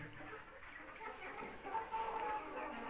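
Young hens in a coop give off a steady, overlapping murmur of clucks at moderate loudness, with no one speaking.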